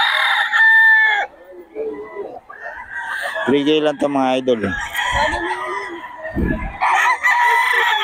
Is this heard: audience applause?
no